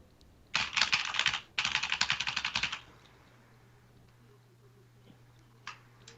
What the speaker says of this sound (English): That's fake typing.